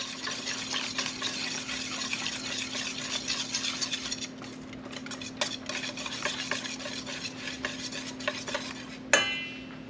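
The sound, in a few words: whisking zucchini fritter batter in a bowl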